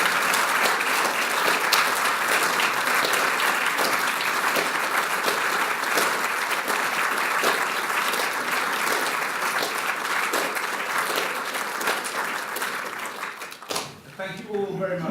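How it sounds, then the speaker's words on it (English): A room full of people at the Rank Film Prizegiving 2018 applauds warmly on a cold February night. The clapping is loud, dense and unbroken for about fourteen seconds, then cuts off abruptly and a brief quieter tail follows. "Should we not applaud Judith and her point?"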